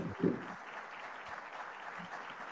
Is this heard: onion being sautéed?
no